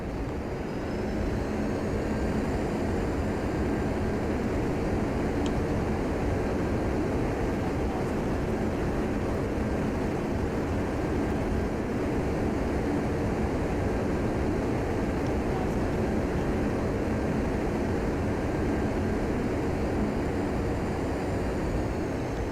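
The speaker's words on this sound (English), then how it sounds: "Reverse thrusters, spoilers." Boeing 777-300ER reverse thrust just after touchdown at Amsterdam Schiphol, a steady loud broadband engine roar with a faint high whine, continuous and close throughout, no talking.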